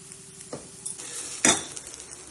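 Chopped onion frying in a pan for aval kozhukattai, a soft sizzle with a couple of louder scraping stirs and a clink of a utensil against the pan, close and alone.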